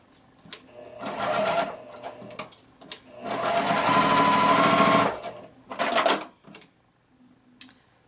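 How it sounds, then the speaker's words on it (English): A sewing machine stitches a quilt seam for a beginner tulip block, running in two longer whirring bursts, then a brief final spurt, each separated by quiet pauses, close and clear. "I am going to go ahead and stitch that extra seam."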